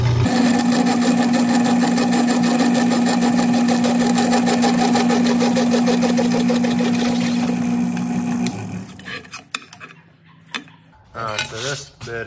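A large 7/8-inch drill bit bores with a steady, loud motor whine and grinding buzz for about eight seconds. The drill then winds down, followed by scattered clatter and handling knocks.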